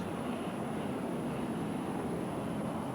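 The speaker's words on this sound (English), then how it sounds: "Plane coming overhead, and the wide receivers can't hear the call." An airplane passes overhead at an outdoor football stadium during an NFL game, a steady broadband engine roar that fills the whole stretch without a break.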